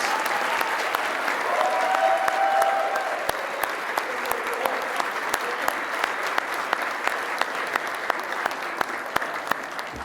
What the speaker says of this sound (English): let's give a round of applause to all of the PMs for a successful year of leading the teams